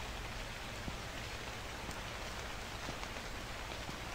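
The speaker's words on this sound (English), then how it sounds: "It's dark and it's rainy." Steady rain pours at night in a convenience store horror video game, a dense, even hiss of drops close and constant with no voices.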